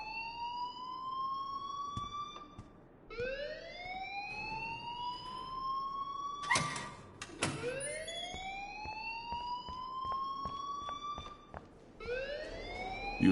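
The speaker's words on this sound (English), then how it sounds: "please turn off that alarm since that's your job" A rising, wailing siren-style alarm sounds in the video game Life is Strange, sweeping upward in repeated cycles with a sharp burst of noise in the middle, loud and continuous without talk.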